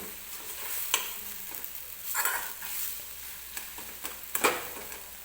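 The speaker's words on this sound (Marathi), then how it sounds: "चमच्यानेच अशा पद्धतीनं मी तेलामध्ये ही वांगी जी आहे मॅश केलेली मिक्स करून घेते" A spoon stirring mashed eggplant in hot oil in a pan, a steady soft sizzle with a few sharper scrapes and taps of the spoon against the pan, close and fairly quiet.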